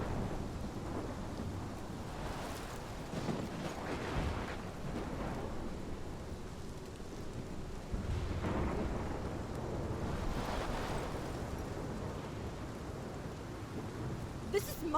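A thunderstorm rages in the game Life is Strange: heavy, constant rain with deep thunder rumbling and swelling throughout, dense and enveloping.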